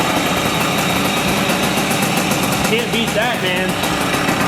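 A vintage enduro motorcycle engine runs steadily after a cold start with the choke on, a close, loud, even idle that carries throughout while someone briefly speaks over it.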